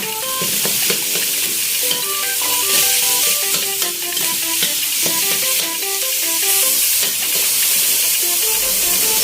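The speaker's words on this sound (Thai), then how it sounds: "หลังจากนั้นใส่หมูบดหรือหมูสับลงไปได้เลยค่ะ ผัดให้หมูสุกค่ะ" Minced pork and aromatics stir-fry in a hot pan, giving a steady loud sizzle and hiss with repeated scraping and stirring strokes, and no voices.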